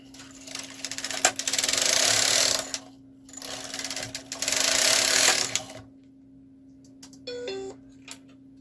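A Kh 230 knitting machine knitting two rows, each pass a loud, even mechanical rasp lasting about two seconds, followed by a few brief clicks and a short beeping tone.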